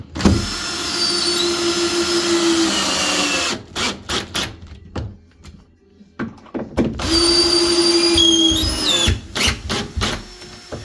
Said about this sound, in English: Using 50mm long wood screws for this, pre-drilling first with a 3mm drill bit.